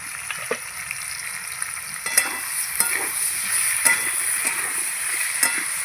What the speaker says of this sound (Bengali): আমি সবজিগুলো খুব ভালো করে ভেজে নিয়েছি, আর একটু ভাজবো।